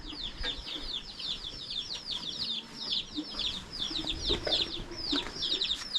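Hens and chicks on a rural village farm cluck repeatedly and busily for several seconds, close by, with some low background noise.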